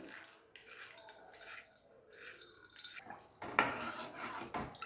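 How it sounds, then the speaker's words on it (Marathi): Tomato puree for soup being pushed through a kitchen strainer: faint, soft scraping and wet dripping with light utensil clinks, one sharper metallic tap partway through. "ही प्युरी रेडी आहे टोमॅटोची ती मी गाळून घेणार आहे"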